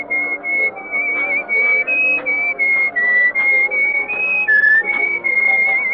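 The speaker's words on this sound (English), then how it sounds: "you were whistling our tune" A person whistles a tune alone, clear and close, with a string of held notes shifting pitch in steady phrasing and brief breaths between them.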